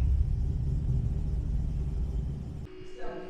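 A Ford Mustang GT V8 with new oil pump gears and a GT350 sump rumbles steadily at idle just after starting, a deep close engine drone that drops off abruptly near the end.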